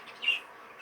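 A young, heavily variegated Fife canary, rung this year, gives a single short, clear chirp from a show cage, close and fairly faint against a quiet background.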